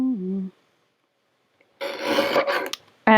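Decorative craft paper for a handmade Mother's Day card is trimmed in one close, rasping cutting stroke lasting about a second. It comes after a short voice and a pause.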